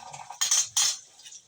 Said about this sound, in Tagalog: hugas naman po tayo ng pinggan